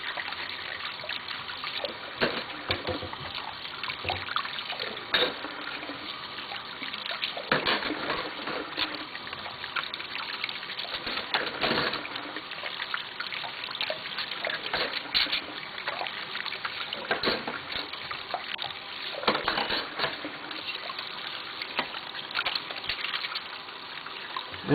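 Dishes being rinsed under a running kitchen tap after washing with dish soap drops, a steady close stream of trickling and splashing water with occasional clinks and gushes throughout.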